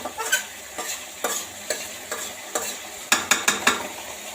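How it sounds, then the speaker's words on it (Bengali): Fish fried and then stirred in mustard paste in a pan, with a steady sizzle under repeated scraping strokes of a spoon, ending in a quicker run of four sharp scrapes, close and fairly loud. "মাছগুলোকে প্রথমে আমি ভালোভাবে ভেজে নিলাম, তারপরে যে সর্ষে বাটা দিয়ে করছি।"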